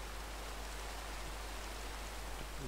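Steady, quiet broadband hiss of rain falling in Minecraft, a continuous even patter with no voices.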